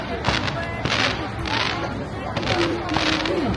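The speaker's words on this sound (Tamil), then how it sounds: "வெடி வைக்க ஆரம்பிச்சாங்க" Firecrackers burst at a New Year 2025 celebration, a run of loud, sharp cracks and booms recurring through the clip amid crowd noise and a whistling tone, with voices heard in the background.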